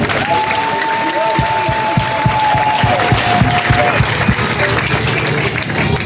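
A church congregation at a fiftieth-anniversary closing service claps loudly and steadily throughout, a thick continuous wash of hands with a sustained voice or tone rising above it in the first seconds.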